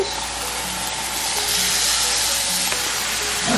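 Fish and garlic fry in a pan with a loud, steady sizzle and crackle, close by, broken by faint scraping. No one speaks.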